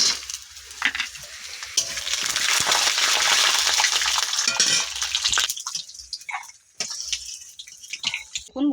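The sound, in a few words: peanuts frying in oil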